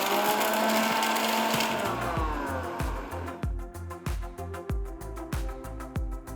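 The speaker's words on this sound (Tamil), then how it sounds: "இப்போ மிக்சர் ஜாருக்கு மாற்றி நல்லா பவுடராக அரைச்சிக்கோங்க." Kitchen mixer grinder jar grinding roasted whole spices into garam masala powder: a loud whirring motor that winds down, then a string of short rhythmic pulsed bursts with rattling spice inside.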